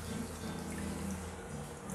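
Thin potato slices for batata chivda are rinsed by hand in a bowl of water, giving a steady soft sloshing and trickling wash, continuous and close, with no voices.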